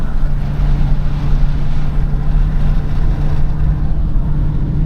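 A Ford 7.3 Godzilla V8 in a Super Duty pickup towing a 6,500 lb trailer up a steep mountain grade, a loud steady low engine drone with road and wind rumble, constant throughout with no talking.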